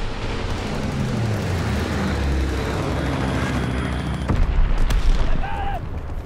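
Call of Duty strafing run: a continuous roaring rumble of aircraft and explosions in the game, dense and loud throughout, with sharper bursts and a brief tonal game sound near the end, no voices.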